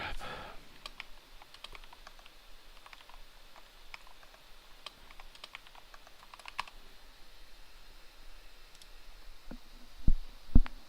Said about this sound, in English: you can hear the keyboard